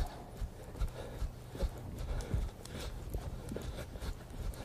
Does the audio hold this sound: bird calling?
no